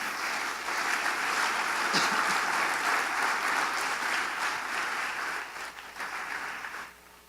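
A church congregation claps together in sustained, dense applause that stays level for several seconds, then thins out and fades toward the end.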